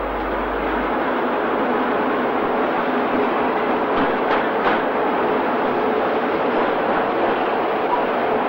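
Steam locomotive 45593 moving at Shrewsbury in 1966 gives a continuous rolling rumble with a few faint clanks midway, heard at moderate loudness with no voices.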